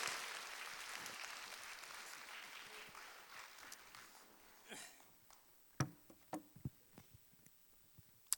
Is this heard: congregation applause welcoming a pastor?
yes